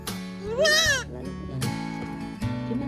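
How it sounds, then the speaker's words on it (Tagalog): A goat bleats once with a wavering, nasal cry, close by, followed by a shorter bleat amid low background voices. "Kambing."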